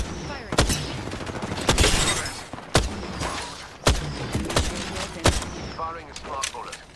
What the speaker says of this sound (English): Firing a smart bullet